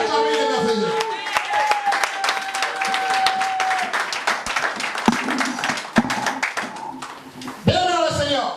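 A church congregation claps and cheers in lively applause, dense hand claps mixed with shouts and sung exclamations, while a voice speaks and calls out over the crowd.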